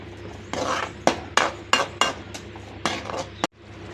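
Egg gravy masala being sautéed in a pan, with a series of sharp spoon-on-pan clinks and scraping stir strokes over a steady low background hum, close and fairly loud.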